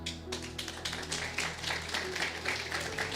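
A church audience claps in sustained, fairly even applause, with dense overlapping hand claps filling the space at moderate distance, and no voices standing out.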